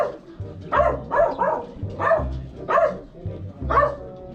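A dog barks repeatedly in a steady rhythm, about six or seven sharp barks, fairly close and clear with little else around.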